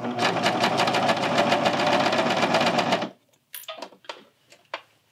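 A serger sews a neckband onto a Hemlock tee, a loud fast rattling stitch run for about three seconds that stops abruptly, followed by a few brief clicks and handling sounds.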